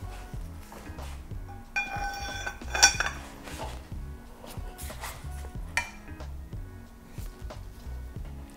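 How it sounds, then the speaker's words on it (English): A breaker bar loosens tight bolts on a broken Volvo 2.5T engine during disassembly. Close metallic clanks and clinks come in irregular bursts, with a few sharper ringing knocks. "I'm gonna use a breaker bar to remove them"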